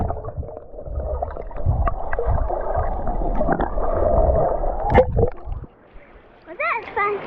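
GoPro camera plunged into murky sea water at a Florida beach, giving close, muffled underwater gurgling and splashing with low rumble, then a quieter stretch near the end with a few faint higher chirps.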